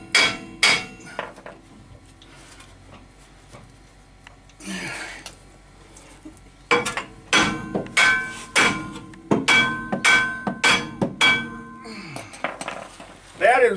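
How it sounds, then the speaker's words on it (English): Heavy hammer blows strike a stuck parking brake drum on a classic Mercedes-Benz, the caliper moved up onto the half shaft; loud metallic clangs come in irregular bursts, then a fast run of repeated hits with brief ringing between them. "thought I'd give it a bash with my big hammer"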